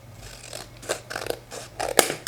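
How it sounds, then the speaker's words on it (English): Scissors snip through paper for a junk journal, several crisp cuts at an uneven pace, close and clear with no talking. "look at me, just using scissors like a pro"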